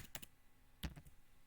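Computer keyboard keys tapped while entering a Linux process command in a terminal, a few quick clustered clicks followed by a firmer keystroke, close and quiet with no talk.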